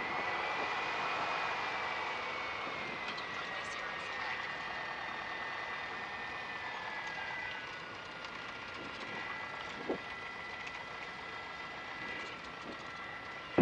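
A Piper Warrior light aircraft engine droning steadily at a distance during a runway takeoff, a sustained faint hum that fades slightly partway through, with a brief click near the end.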